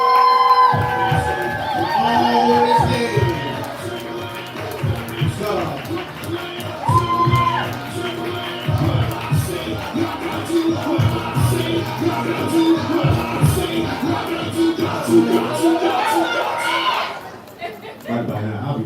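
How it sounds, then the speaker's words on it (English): A live poetry-night audience cheers, whoops and chatters in a lively roomful of voices, with a host speaking over the crowd, the noise swelling and dipping before dropping off near the end. "coming to the mic, we're clapping, we're building energy, showing all the love"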